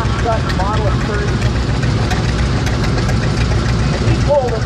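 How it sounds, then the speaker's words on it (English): Restored 1947 Coxsackie Model 30 tractor, Canadian-built, runs with a steady mid-to-low engine drone at a tractor parade, continuous and fairly loud, with people talking over it throughout. "This next tractor is a Coxsackie."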